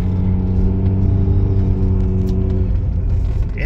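A Holden VRX car driving steadily with a deep engine drone and rumble, rising slightly as it accelerates, heard from inside with no talking.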